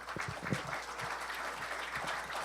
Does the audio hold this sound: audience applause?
yes